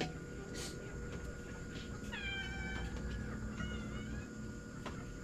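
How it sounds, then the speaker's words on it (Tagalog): A cat meows several times in a row, thin rising calls heard at moderate distance over a steady background hum with faint scattered noises. "Ay, ang pusa."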